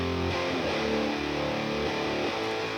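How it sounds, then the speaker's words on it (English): Thick, grungy distorted electric guitar run through a Neural DSP Tone King amp plugin, a right-side rhythm part in an indie pop rock arrangement, playing steady sustained chords alone with a dense, saturated wash. "this is the right side guitar. Very thick, very just like distorted and grungy."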